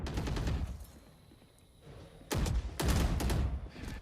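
Bullets fire in bursts in a competitive shooter video game, rapid crackling volleys at the start and then louder sustained bursts near the end, with a quieter gap between them.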